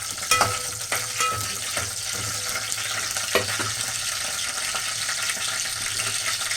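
Spices and curry leaves tempering in hot oil for a mutton bone soup, giving a steady close sizzle and crackle with a few sharper pops and spoon stirs, no voices.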